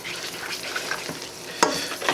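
Melted butter sizzles steadily in a pan, a continuous close crackle and hiss with a sharper spatter near the end, no voices over it.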